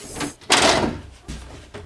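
A door with plastic tape on its hinges swings shut, giving a soft thud and brief creak, then a second quieter knock about a second later, close by and alone.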